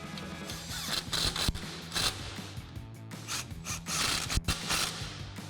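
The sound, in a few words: impact wrench tightening bolts with 13mm socket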